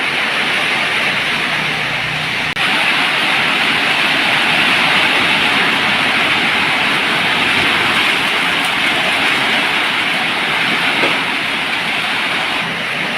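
Steady, dense rain pours down continuously, a loud broadband hiss with no voices.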